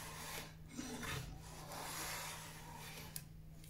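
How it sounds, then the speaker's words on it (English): A Stanley 71 router plane taking a few thin shavings off the wooden body of a W. Watson camera, a soft continuous scraping rasp that is close and quiet with no talk. "So all I'm doing is just taking, you can see, you know, 2 or 3 shavings,"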